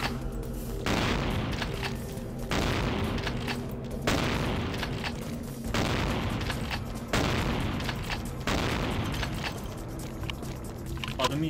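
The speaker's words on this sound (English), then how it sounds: "How about the shotgun?" Shotgun blasts in the vampire video game Bloodlines, several loud booming shots spaced a couple of seconds apart, each with a sharp onset and a rumbling decay, with no talk over them.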